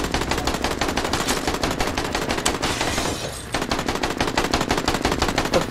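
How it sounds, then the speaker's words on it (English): Sustained machine-gun fire in the video game Dead Rising 4, a rapid, even stream of loud shots with one brief pause near the middle before the firing resumes at the same pace. "More shooting."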